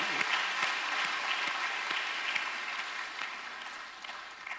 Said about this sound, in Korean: 우리 박수 어머니들에게.